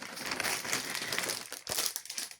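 Plastic foil packaging crinkled and crumpled up close, a dense continuous rustle with a short pause and then another burst of crackling.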